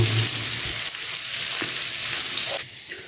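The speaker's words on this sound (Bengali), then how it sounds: "পেঁয়াজ ভেজে নেব" Onions frying in a pan give a loud, continuous close-up sizzle with crackling and occasional stirring, dipping slightly toward the end.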